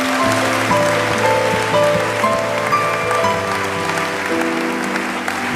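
A church congregation applauds during a sermon, with steady clapping that lasts the whole stretch over sustained held tones, with no voice on top.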